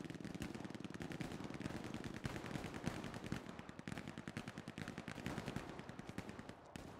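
Dense, continuous gunfire from Hell Let Loose, with rapid machine-gun bursts and rifle shots cracking in a steady rhythm throughout, loud and close, with no talk over it.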